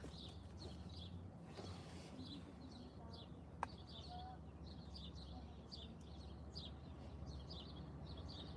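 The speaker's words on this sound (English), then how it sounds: "Hear the birds?" Small birds chirp in quick, repeated bursts against a quiet outdoor background, the calls fairly faint and steady throughout.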